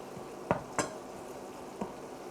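Tomato cooks in fat with onion in a pot, giving a low steady sizzle broken by a few sharp clinks of a utensil stirring against the pot.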